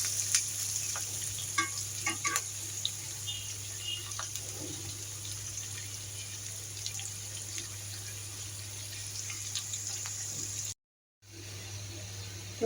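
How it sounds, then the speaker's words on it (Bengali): Spices frying in a little oil in a pan for egg-fried potato ghati, a soft steady sizzle under a constant background hum, with faint scattered clicks of stirring. "এখানে এখন মশলাগুলো আমি ভেজে নিব"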